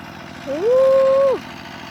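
A walk-behind two-wheel farm tractor fitted with a seat runs at a steady, close idle, its low rhythmic engine drone joined midway by a loud, sustained tonal whine that rises, holds for about a second, then drops away.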